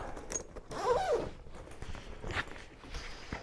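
A zipper is pulled open on an affordable camera backpack whose zipper pulls have small rings for a travel lock. It makes a short, close rasp near the start, followed by faint handling and rustling.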